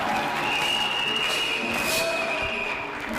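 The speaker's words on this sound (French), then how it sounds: "Oui, acclamons, acclamons. Acclamons, acclamons." Church congregation applauding and cheering, a dense continuous wash of clapping and voices that fades slightly at the end.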